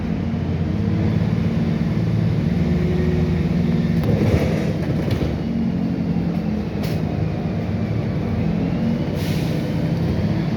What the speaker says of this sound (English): We've got a bus there on Route 44 bound for Victoria.